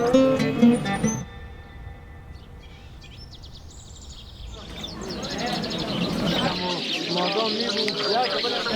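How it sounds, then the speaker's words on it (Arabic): Birds call and chirp at a bird market in Afghanistan, faint at first, then livelier chirps and coos rise over a busy crowd hubbub in the second half, with people talking nearby. "واللي هو سوق الطيور. في كل انواع الطيور هون في افغانستان"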